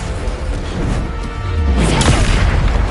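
A Bombarda spell explosion in Hogwarts Legacy sounds as a loud, dense, rumbling boom that swells and holds for several seconds, with no talk.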